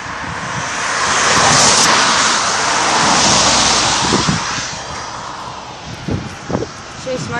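Cars passing on a city street near a pedestrian crossing, two swelling whooshes that rise and fade as vehicles go by close, followed by quieter traffic while people talk nearby.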